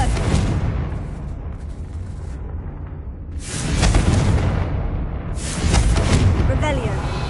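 Confringo fire spells in Hogwarts Legacy go off as a series of deep booming blasts, one at the start and two more later, each followed by a rumbling tail.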